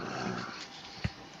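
A dog growls in one short, low burst, loud and close, rising briefly out of a steady background murmur.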